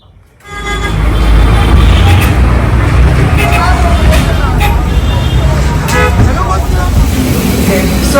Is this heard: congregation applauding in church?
no